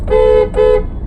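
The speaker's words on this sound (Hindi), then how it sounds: "हॉर्न दीजिए" A car horn gives two short, loud toots in quick succession during a driving lesson on a crowded street, each honk steady and bright, with a brief gap between them.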